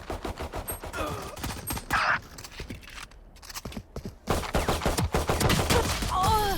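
Video game gunfire plays out as rapid bursts of loud, close shots in clusters, with a short quieter gap partway through before another string of shots resumes.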